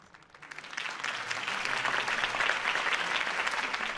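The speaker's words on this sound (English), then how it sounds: "could have heard that applause" A crowd in the video game Batman: The Telltale Series breaks into loud, sustained applause that swells within the first second and keeps going steadily, dense clapping from many hands.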